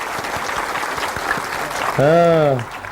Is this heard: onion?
no